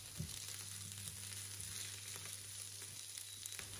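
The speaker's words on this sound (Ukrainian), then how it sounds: "Тепер на олії обсмажую цибульку до золотистого кольору." Onions fry in oil in a pan until golden, a steady close crackling sizzle that runs evenly throughout with no talking.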